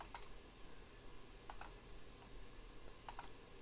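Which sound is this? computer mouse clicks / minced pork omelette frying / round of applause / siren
computer mouse clicks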